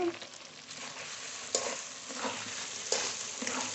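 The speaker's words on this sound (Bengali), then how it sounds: "একটু ভালো করে কষিয়ে নিয়েছি" Pieces of home-raised desi chicken being sautéed in a pan: an even, moderately quiet sizzle with two sharp spatula knocks and some stirring scrapes, and no talk.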